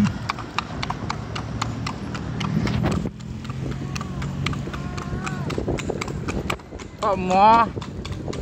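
Horse hooves clip-clop steadily on pavement as a bendi, a horse-drawn cart, rolls from Pasar Padang toward Taplau, the regular beats running throughout under nearby talk, with a brief louder voice near the end.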